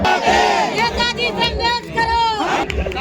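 A crowd cheering and chanting at an Aam Aadmi Party campaign rally in Gautampuri Colony, Badarpur, with loud overlapping shouts rising and falling in waves close by, alongside a steady drone.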